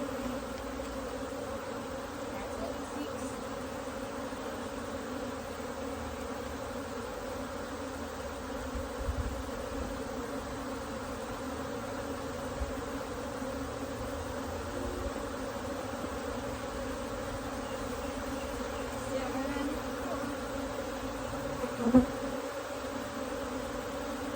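Honeybees hum continuously in an open hive, a steady droning buzz that holds evenly throughout with no talking and only a few faint handling knocks.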